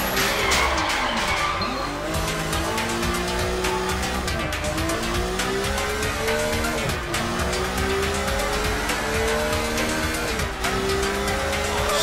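Car driving in the Sleeping Dogs video game: a steady engine drone with repeated rising and falling revs and tire squeals as it skids through turns, loud and continuous without speech.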